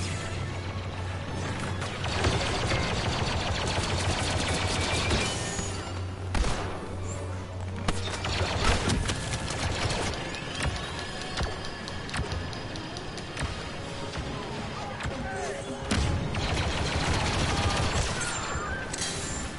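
Rapid gunfire from a Star Wars Battlefront II battle, dense bursts of blaster and rifle shots with crashes and booms layered over a constant loud din, no clear talk.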